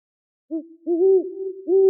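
Low, soft hoots from an owl, a short call followed by longer wavering ones, clear and close against silence.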